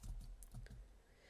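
Quick run of soft clicking keystrokes on a computer keyboard, several fast taps close by and faint, then trailing off.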